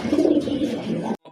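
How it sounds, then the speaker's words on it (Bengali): Pigeons cooing nearby at a loft where birds are kept for sale, a steady rounded low cooing running for just over a second before dropping out abruptly, with no voices. "এটা কিন্তু মাশাআল্লাহ হিউজ সাইজের কবুতর, অনেক বড় সাইজের কবুতর"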